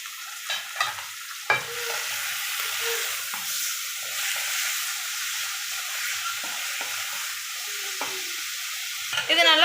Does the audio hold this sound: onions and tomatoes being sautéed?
yes